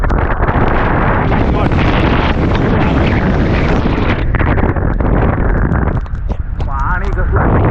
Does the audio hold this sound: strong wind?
yes